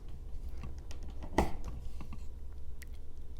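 A VYRkniv V901 pocket knife with D2 steel blade slices through a wire sheath holding three wires, a single sharp crunching snip amid faint scraping and handling clicks, close and quiet.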